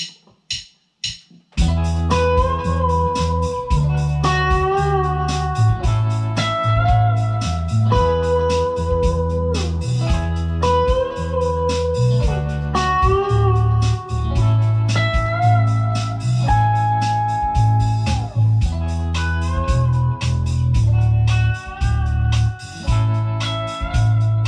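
Electric guitar lead line over the bridge of a song, played through a Digitech Trio+ with backing bass and drums, a full, steady band mix after a brief sparse opening.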